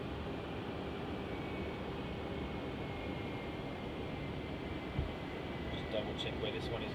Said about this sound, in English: Finally a little bit of movement as this JQ A320 starts its taxi.